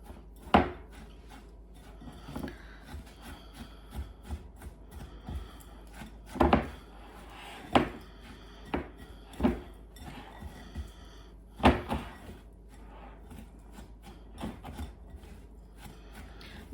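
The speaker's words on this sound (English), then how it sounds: "Just gonna mix that together well so all of that cookie is mixed in with the butter" Crushed Oreo cookie crumbs stirred into butter for a cheesecake crust, repeated scraping knocks of a utensil against a bowl in an uneven rhythm, close and fairly soft.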